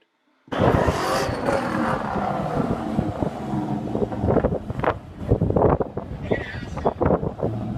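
A 2003 Ford Mustang Mach 1 runs down a drag strip, its engine roaring loudly and steadily under heavy wind buffeting on the microphone, with rising and falling surges toward the end.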